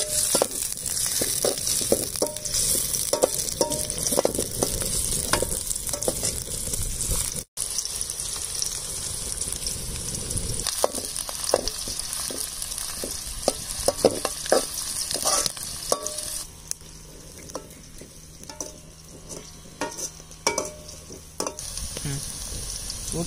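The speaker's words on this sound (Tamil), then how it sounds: "வெங்காயம் பார்த்தீங்கன்னா நல்லா வதங்கிச்சு" Onions sautéing and being stirred in a pan while cooking a village-style crab gravy, with steady sizzling broken by repeated scraping strokes of a spoon, close and continuous throughout.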